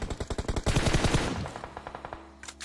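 Rapid automatic rifle fire from an M416 sprays in a video game match, a loud dense burst of shots that eases into quieter scattered rounds, with no talking.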